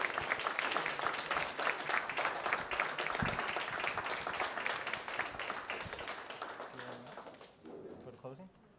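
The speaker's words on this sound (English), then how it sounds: "One more hand of applause for all of them for crossing over." Sustained clapping from a scout pack audience honoring scouts crossing over at a Blue and Gold event, a dense steady patter with voices mixed in, fading near the end as talk takes over.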